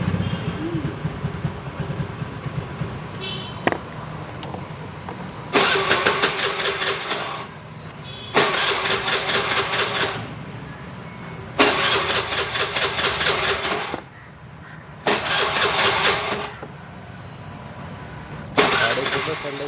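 A vehicle engine, cold on a morning start, cranks in about five separate loud bursts of a second or two each, failing to catch between pauses while someone talks in the background.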